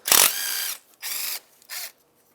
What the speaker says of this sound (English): we'll now go ahead and take out our 4 bolts holding our fuel rail down